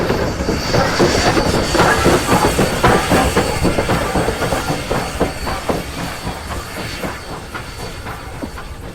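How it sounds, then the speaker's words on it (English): A steam train rolls past close by, a dense rhythmic clatter of its running gear over rail joints with a steady hiss and faint high whine, loud throughout. "I want to have that audio of the running gear"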